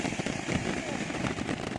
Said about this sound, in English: This is a pretty good firework.